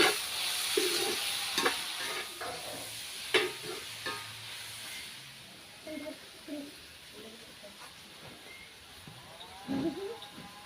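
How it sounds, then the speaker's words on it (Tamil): Spices with turmeric sautéing in oil in a home kitchen, a faint steady sizzle with scattered scraping stirs and light clinks, while a voice talks quietly at times. "ஒரு ரெண்டு நிமிஷம் நல்லா எண்ணெயிலே வதங்கட்டும்"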